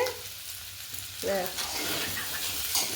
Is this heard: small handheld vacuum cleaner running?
no